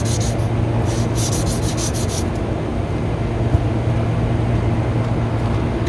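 Steady, close abrasive rubbing as the shaft of an AC unit's motor is cleaned up before a pulley goes on, continuous and even throughout with a few quicker strokes at the start.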